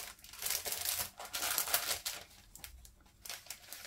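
Christmas tree shapes being cut out of cardstock, with crisp, papery snipping and rustling that come in close bursts, some louder and some softer.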